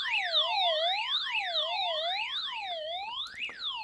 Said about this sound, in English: So that is an alarm button that sends out an alarm.